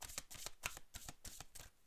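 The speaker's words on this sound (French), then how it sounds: "On va aller mettre des cartes" Tarot cards are laid out on a table in a quick run of about seven soft, papery slaps and slides, close and quiet, with no talk over them.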